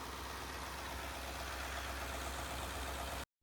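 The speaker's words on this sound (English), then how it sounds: "It's running, it's idling really smooth." A truck engine idles smoothly and steadily in a low, even drone that holds without change until it cuts off abruptly.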